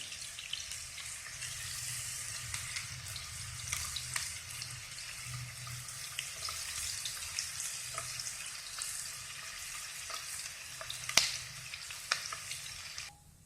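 Onions fry in a pan with a steady, close sizzle that runs throughout, mixed with soft stirring and a sharp click near the end; no voices.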